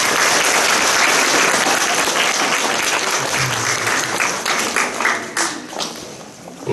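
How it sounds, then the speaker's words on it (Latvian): Sustained applause from a school audience for a young performer at a children's concert, loud and dense throughout, tapering slightly toward the end. "Pirmajam drosminiekam Gustavam, es domāju, ka viņš ir pelnījis vēlreiz aplausus."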